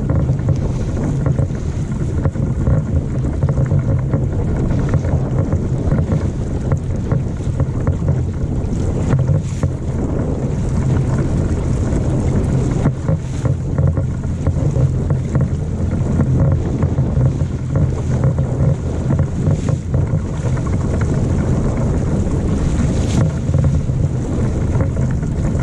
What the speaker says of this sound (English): Winds are really fickle at the moment, they just keep shifting everywhere.